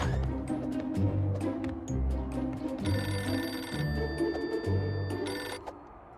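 Telephone ringing in an animated football cartoon, an electronic ring repeating in regular bursts about once a second, loud and close with no voice over it.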